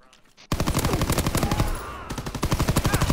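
A World War II video game fills with rapid machine-gun bursts in a loud, rhythmic stream of shots, beginning abruptly after a short quiet moment, with other weapon sounds layered in.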